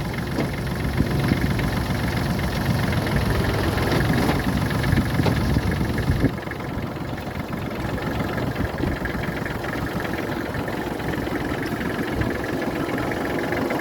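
Kubota GL300 mini tractor, a 30 hp machine fitted with a canopy and a 1.5 m rotary tiller, runs close by with a steady low engine drone that drops slightly partway through as it drives in. No one speaks.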